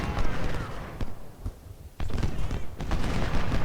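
Musket volleys crackle and thump in Ultimate General: Civil War at Chickamauga, several ragged bursts of massed rifle fire rolling over each other, with a voice talking over the battle noise.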